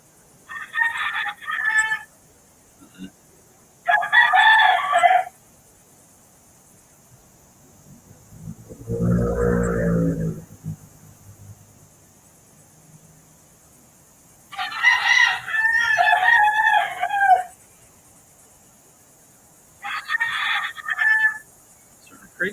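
Roosters crowing at night or early morning, several separate crows spaced apart and fairly loud, with a lower croaking call between them and no talk.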